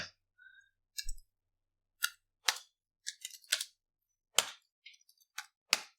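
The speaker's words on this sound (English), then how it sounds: "I just need to type in the password." Password typed on a keyboard: scattered, sparse key clicks and taps, close and quiet, separated by silence.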